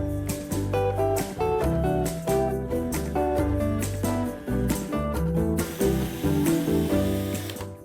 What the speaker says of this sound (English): I'm just going to drive a couple of screws in the corners where the mitre cuts are.